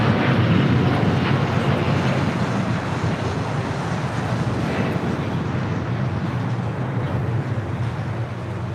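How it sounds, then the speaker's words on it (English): A LATAM Airlines Boeing 787-9 Dreamliner takes off from LAX bound for São Paulo, a loud, steady broadband jet roar that thins slightly as it goes on, with no voices. "This is Latam Airlines 8087 taking off to Sao Paulo, Brazil on a 787-9 Dreamliner."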